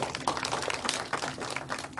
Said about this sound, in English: I think they deserve a clap on this.